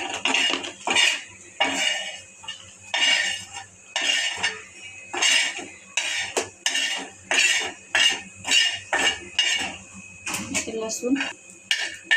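A metal utensil scrapes and clinks against a pan in repeated rhythmic strokes as roasted coconut is removed from the oil, close and fairly loud, with some faint background sound.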